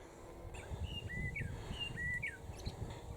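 Songbirds whistle short, bright repeated phrases in a Cotswolds wood near Chedworth, Gloucestershire, a few calls standing out clearly over a low outdoor rumble of wind and footsteps, with no talking.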